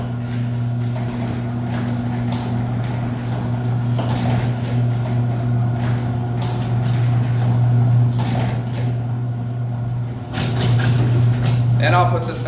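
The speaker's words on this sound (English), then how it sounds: "she's going to operate the door up and down 4 or 5 times." A noisy residential garage door opener runs continuously with a steady low motor hum and mechanical rattling, loud and close, as the door travels up and down.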